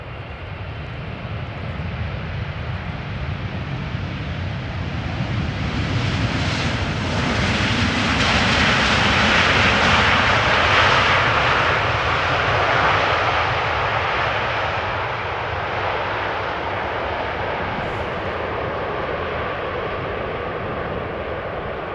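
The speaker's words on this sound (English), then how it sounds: "KLM flight 792 arriving from Sao Paulo" A KLM airliner arriving from São Paulo touches down at Amsterdam Schiphol, its engine roar building to a loud peak mid-pass, then easing into a long steady rumble.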